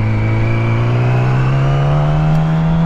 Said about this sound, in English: Watch this car right here, cut out in front of me.